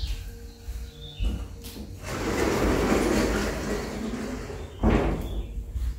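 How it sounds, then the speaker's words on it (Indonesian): A door is pushed shut indoors: a shuffle and rumble as it swings, followed by a sharp thud when it closes, then quieter room noise. "aku tutup pintu ya soalnya berisik"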